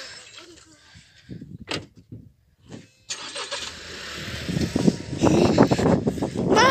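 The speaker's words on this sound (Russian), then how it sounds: "И папа хочет завести машину." A car door thuds, then a car engine cranks and catches about halfway through, settling into a close idle while children's voices chatter and call out over it.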